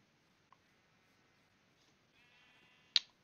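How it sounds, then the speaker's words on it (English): Sheep bleating in the video game Minecraft, one drawn-out bleat fairly faint and alone, followed by a short sharp click. "More sheep."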